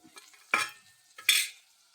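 Onions half-fried in a pan with ginger-garlic paste, chili paste and salt added, sizzling and scraped through two loud stirring strokes about a second apart, close and with no voices.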